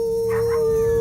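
Dogs howling in the middle of the night in a horror movie scene, a drawn-out wavering howl heard up close over a steady tonal background drone.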